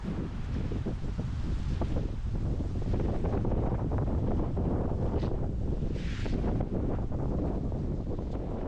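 Strong wind roars and buffets the microphone without letup aboard a boat in the Bahamas, with a wash of sea and water noise beneath, loud and close throughout.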